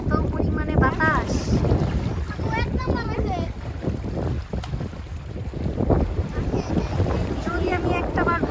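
Strong wind buffets the microphone beside a river at night while waves slosh and break. Someone talks intermittently over the gusty, continuous roar.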